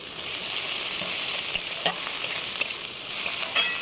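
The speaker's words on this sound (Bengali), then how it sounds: "পেঁয়াজটাকে ভেজে নিয়েছে, এবার দিয়ে দেবো রসুন, আদা, আর দেবো চেরা কাঁচা লঙ্কা" Garlic, ginger and slit green chilies frying with browned onion in a pan, a loud continuous sizzle broken by a few sharp spatter pops and stirring scrapes, no talking.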